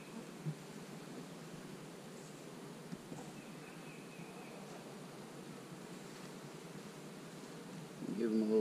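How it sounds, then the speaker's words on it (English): A soft, continuous buzz of bees hums throughout, fairly faint and steady, with a brief louder rustle near the end. "We got a few bees in here"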